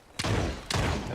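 Two bursts of video game gunfire, each a sudden broadband blast that rings on for a few tenths of a second, close and loud, with a team voice chat setting around it.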